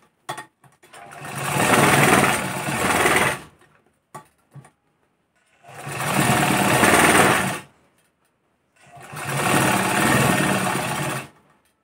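A sewing machine stitches a seam joining a blouse sleeve, running in three sustained bursts of rapid whirring needle action. Quiet pauses separate the bursts, and small clicks fall between them.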